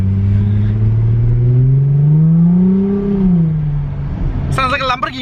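A Jaguar F-Pace S with a straight-piped exhaust revs loudly up close, its deep droning note rising and then falling back. It ends in crackling burbles as a voice cuts in.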